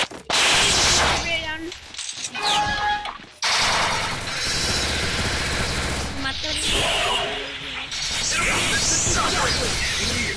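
Gunshots in a shooting video game ring out amid a dense, loud mix of rapid automatic fire, crashes and whooshing effects, nearly continuous with a brief drop near three seconds.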